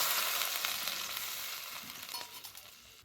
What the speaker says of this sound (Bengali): দিয়ে দিচ্ছি বেশ খানিকটা জল